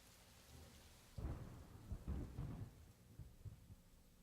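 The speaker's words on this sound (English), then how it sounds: "A storm is coming." Thunderstorm in a promotional piece about stormwater management, with low rumbling thunder rolls and rain hiss building in a few heavy surges, faint and distant overall.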